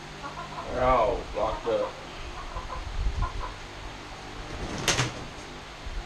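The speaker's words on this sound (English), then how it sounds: "Damn, bird." A chicken clucks a few times in a workshop where rollers on a saw with a 3/4 horsepower motor are being worked on. The clucks are brief and moderately close, and someone talks nearby.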